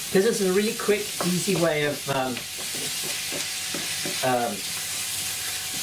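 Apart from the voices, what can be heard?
minced meat browning in a pan for bolognese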